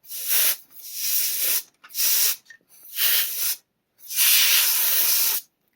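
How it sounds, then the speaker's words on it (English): Compressed canned air sprays in four close, loud hissing bursts, each lasting about half a second to a second and a half, separated by short silences, used while cleaning a water-damaged AGS-101 GBA SP LCD screen. "Go ahead and compressed canned air."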